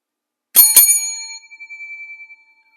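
A hand service bell is struck twice in quick succession, close and bright, its clear metallic ring lingering and fading over a couple of seconds with no talk.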